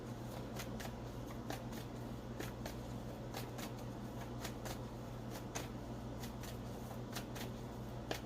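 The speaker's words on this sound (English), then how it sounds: "I had a complaint that I shuffle too much" Tarot cards are shuffled continuously at close range, a soft papery riffling with crisp slaps repeating roughly twice a second over a low steady hum.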